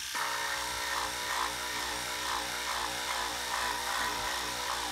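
A David Union 400 linear stroke sander runs continuously with a steady buzzing hum and a faint rhythmic rasp as it strokes over a surface, close and even.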